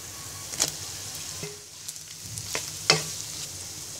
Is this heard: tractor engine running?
no